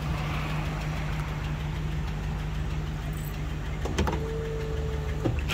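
Hydraulic window pump whirring steadily in a 1948 Packard Super Eight Victoria convertible with its straight-eight engine, a low constant hum with a brief higher motor whine near the end, close and moderately quiet.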